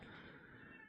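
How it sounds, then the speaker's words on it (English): A house cat lets out a single loud, drawn-out meow, close to the microphone and heard on its own with no talk, lasting about a second before it fades. "That's my cat."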